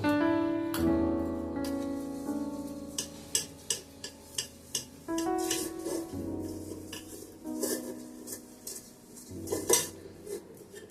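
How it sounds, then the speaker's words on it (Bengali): Metal utensils clink and scrape against a cooking pot while ghee is spread inside it for home-style chicken biryani, a run of sharp rhythmic knocks in the middle with rattling before and after. "প্রথমে একটুখানি হাঁড়িটার মধ্যে ঘি মাখিয়ে নেব"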